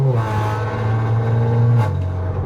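Audi RS4 wagon with a 331 kW engine accelerating on a drive, a loud, close engine note that climbs in pitch, drops briefly at a gear change and then pulls again.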